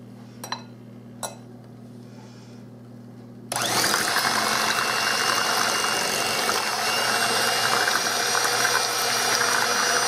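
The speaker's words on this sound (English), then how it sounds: "I'm going to use a hand mixer, and I'm going to beat all this up together" Some soft clicks, then an electric hand mixer starts and whirs loudly and steadily, beating cream cheese pie filling.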